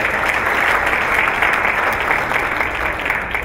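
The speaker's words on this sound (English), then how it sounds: "let's give them a round of applause for that" At a State of the District event, a crowd gives steady, dense applause for absent directors, a full round of clapping filling the whole stretch at even loudness with no talk over it.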